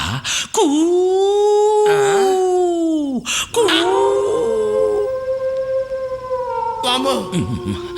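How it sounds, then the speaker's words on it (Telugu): Jackal howling: several long, wavering, drawn-out howls rising and falling in pitch, with short breaks between them and one sustained high cry, loud and clear. "దూరంగా ఒక నక్క"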